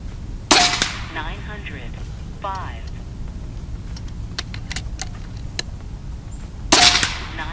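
A JSAR Hawk air rifle fires JSB 18-grain pellets at a 50-yard target, two sharp loud cracks several seconds apart with faint clicks and handling noises between them.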